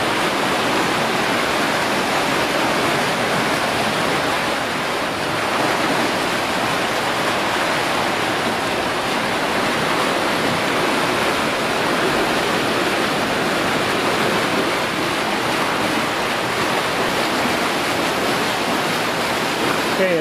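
Water surges through a Proco ProFlex check valve during a full-flow test at nearly 17,000 gallons per minute, a loud, steady, unbroken roar of rushing water that holds evenly for the whole stretch with no talk.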